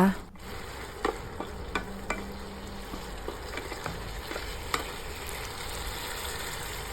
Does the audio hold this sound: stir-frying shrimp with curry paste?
yes